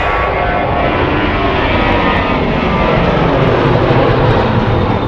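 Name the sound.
aircraft taking off at Charlotte Douglas Airport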